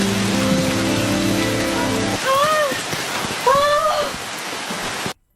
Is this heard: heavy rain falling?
yes